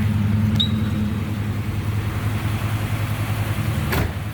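A 1965 Chevrolet Malibu with a 327 V8 idles steadily and close by, a low droning hum with a brief click near the start and a sharp knock toward the end.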